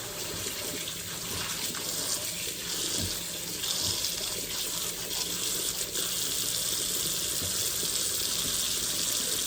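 Tap water runs steadily over sea moss in a bowl in a sink, a continuous close splashing stream with small gurgles and no voices.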